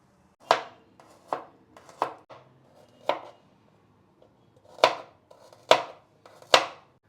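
Knife chopping ingredients for tomato bath on a cutting board: about nine crisp, separate chops at an uneven, unhurried pace, close and clear in a quiet kitchen.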